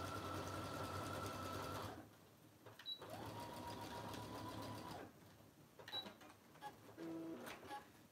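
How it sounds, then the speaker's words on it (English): A sewing machine stitching the corners of a simple messenger bag runs in steady bursts, with quick pauses between runs and a few small clicks and handling noises, fairly close and without talk. "So I'm just sewing them here"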